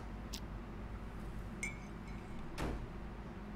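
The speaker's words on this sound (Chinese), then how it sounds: "玻璃的声音" Glass clinks in the Unheard detective game: three faint, brief chinks, one with a short ringing tone, are spaced across a quiet room hush.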